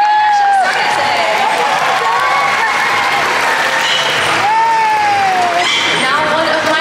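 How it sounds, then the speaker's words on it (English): An audience at a dolphin show in a large aquarium gives loud, continuous applause and cheering, with a voice talking over the clapping throughout, crowd shouts rising and falling. "How about a round of applause for Kenobi, Pacino, Sydney, and Polka for getting our show started today"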